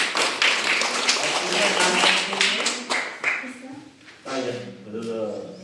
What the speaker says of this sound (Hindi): तालियां हो जाओ इनके लिए